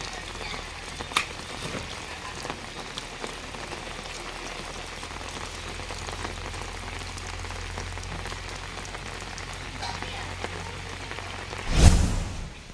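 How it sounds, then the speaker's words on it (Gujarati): Steady rain patters on a surface throughout, a continuous hiss with a brief louder swell of water or movement near the end. "વરસાદ ચાલુ થઈ ગયો"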